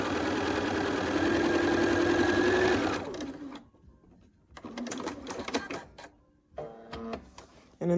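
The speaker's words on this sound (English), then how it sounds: "I'll put it down under my presser foot, take a few stitches, and then reline it up" A sewing machine stitches quilt fabric in a steady, loud whirring run for about three seconds. Then come several shorter bursts of stitching separated by pauses, with small handling noises in between.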